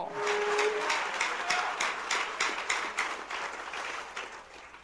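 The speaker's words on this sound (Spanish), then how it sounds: "Denle un fuerte aplauso a Cristo." A church congregation applauds together, the clapping falling into a steady rhythmic beat that carries on throughout and slowly eases off toward the end.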